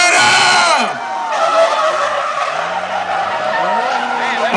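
Manabu Orido's drift car slides tight along the wall at Atlanta Motor Speedway during NOPI Nationals 2005, with a passenger riding along. Long, loud, wavering tire squeal mixes with engine roar, and a voice is heard faintly underneath.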